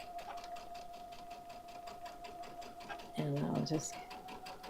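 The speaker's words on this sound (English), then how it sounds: "And so it will sew forwards and backwards." A sewing machine stitches forwards and backwards on a tote bag, its rapid needle ticking running steadily and fairly faint beneath a voice, with a brief louder burst near the end.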